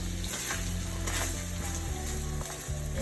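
Eggs and shrimp fry in a pan preheated on high heat, giving a steady, close sizzle and crackle that runs unbroken for the whole stretch with no talking.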